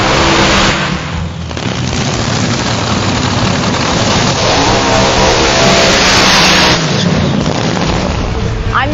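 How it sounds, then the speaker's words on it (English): A Top Fuel dragster's KB Elephant engine revs hard and loud, a dense roaring blast that fills the whole clip with only a brief dip near the start, close to the car at the drag strip. "We're running this KB Elephant motor, and we're revving it up, popping the clutch with a pedal clutch"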